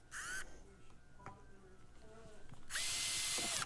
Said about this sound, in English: So I'm going to use my drill and make some holes for a hanging cord.